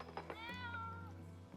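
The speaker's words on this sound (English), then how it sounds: "It's our neighbor cat, Sassy." A neighbor's cat gives a single drawn-out meow, close and clear, in a quiet indoor setting.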